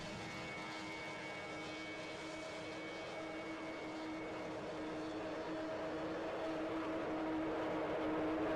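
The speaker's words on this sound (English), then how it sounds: "So here we have a Lockheed Martin F-35 Lightning, which is doing in fly-by right next to me." A Lockheed Martin F-35 Lightning jet makes a fly-by at an airfield, a steady droning engine roar that builds gradually louder across the stretch, heard alone without talk.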